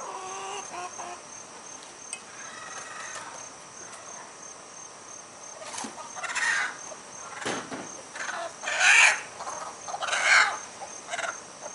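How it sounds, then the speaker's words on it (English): An agitated broody hen lets out loud squawks and clucks in bursts, growing louder toward the end, over a steady background of chirping insects. "You ain't never seen a chicken so mad."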